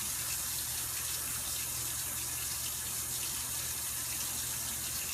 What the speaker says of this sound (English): make sure that you're not touching the side of the sink to recontaminate your hands while you're washing them